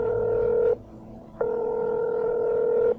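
Phone dialing in the Technobabylon adventure game: two long steady ringback tones separated by a short pause, clean and close with no talk.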